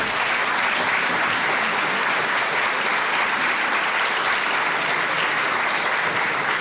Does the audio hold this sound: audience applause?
yes